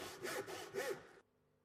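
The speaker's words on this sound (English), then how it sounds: "Using a tenon saw, begin to cut along the waste edge of the gauge lines on 2 faces of the timber." Tenon saw cutting a timber rail clamped in a vise, with about four close rasping strokes in a steady rhythm before stopping abruptly.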